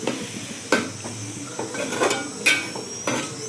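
Keema fry with garam masala and chopped coriander being mixed in a pan: repeated sharp metallic scrapes and clanks of a spoon against the pan over a low sizzle, close and fairly loud.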